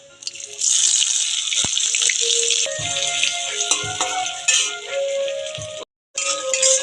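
Onion fries in oil with dry red chillies, cumin and a bay leaf, a bright, close sizzle that hisses steadily with clinks and stirring knocks, dropping out briefly near the end before resuming.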